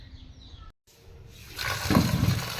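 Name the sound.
pouring water to wash nal velai greens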